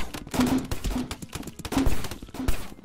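Rapid bursts of gunfire from the video game One Second Outside: Breakout 4, dense and loud, with several shot clusters spaced across the moment over a busy game soundscape.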